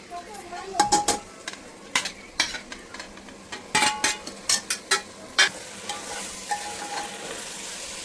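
A spoon stirs spice masala into gravy in a pan for a paneer dish, with sharp irregular metal clinks and scrapes over a soft background sizzle.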